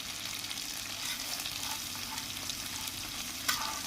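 Chicken marinated with ginger-garlic paste, Kashmiri chilli powder and turmeric frying in a pan, a steady close hiss of sizzling oil with occasional quiet stirring.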